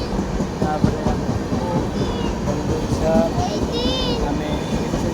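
An express train runs past near Khordha Road in Odisha, a rumbling rattle of wagons with rhythmic clicks and brief high squeals and whistle-like tones, moderately close, while voices talk over it.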